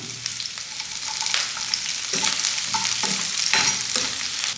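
Chopped onion and diamond-cut green chillies sizzle in hot oil in a pan for a chicken corn Manchurian. A steady close hiss plays throughout, broken by occasional scraping stirs of a spoon, with no talking.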